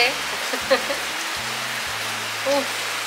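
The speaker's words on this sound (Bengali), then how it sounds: "আজকে ফাইনালি বৃষ্টি পেয়েছে, কি ভালো লাগছে।" Rain patters steadily on a surface in a hushed, continuous wash, with low tones and brief sounds intermittently above it.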